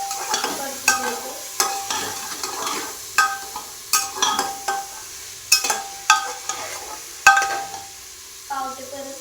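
Pav bread sautés in a hot pan with a low sizzle, punctuated by about a dozen sharp clacks and scrapes of a spatula at irregular intervals, close by with no speech.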